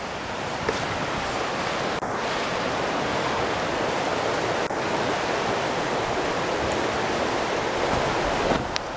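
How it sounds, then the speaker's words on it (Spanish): A river rushes past steadily nearby in a mossy woodland setting with a stone path, a dense, unbroken roar of flowing water with a few faint knocks over it. "El río."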